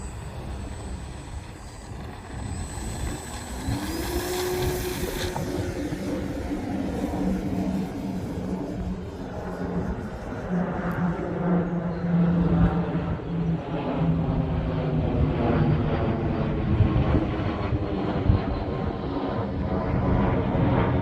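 A small RC model airplane's engine at full throttle whines high and steady, shifting pitch as the plane passes and descends over a beach park, fairly loud and alone.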